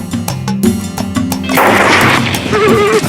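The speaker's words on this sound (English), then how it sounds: "This gave me the perfect chance to take aim and fire with no rush at all." A Musgrave Field Delux .308 rifle shot rings out during a black wildebeest hunt in the open, a loud blast with a rolling echo and rumble trailing off, after some faint sounds and a voice beforehand.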